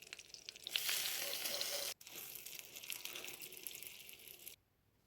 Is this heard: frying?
yes